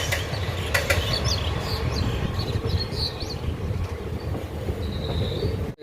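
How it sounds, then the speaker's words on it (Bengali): The Howrah–Siuri Hul Express rumbles past at close range, a loud, steady roar of wheels and carriages with faint clatter and a thin squeal near the end, and no voices. "হাওড়া শিউড়ি হুল এক্সপ্রেস"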